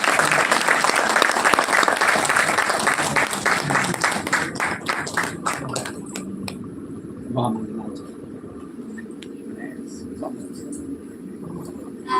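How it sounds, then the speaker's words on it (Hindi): Audience applause at a live Hindi devotional storytelling event, dense and loud for about six seconds, then thinning out and fading into scattered claps over low room noise. "आइए मांगीलाल जी, तालियां बजाएं ऐसे"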